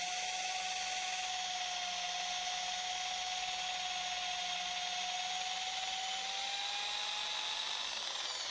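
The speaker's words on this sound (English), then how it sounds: "Drill holes in the wooden handle section." Power drill boring holes into the wooden handle section of a wood and epoxy resin knife, a steady high whine with a constant tonal hum that slowly rises in pitch near the end, close and continuous with no talking.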